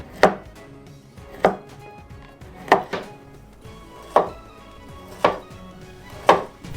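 A knife chops through a stick of sausage on a board in six crisp, evenly spaced strokes about a second apart, close and clear with quiet gaps between.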